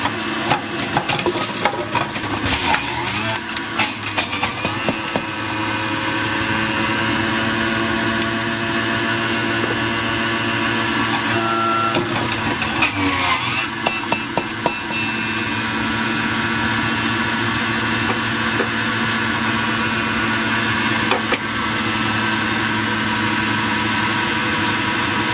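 A juicer grinds fresh ginger root with a loud, steady whining motor drone and intermittent crunching bursts as the root is fed in, running alone for about twenty-five seconds.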